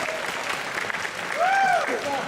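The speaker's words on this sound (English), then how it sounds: "one more applause for Anime Hell." Convention audience applause at an anime comedy improv show, a steady wash of clapping with a voice speaking over it near the end.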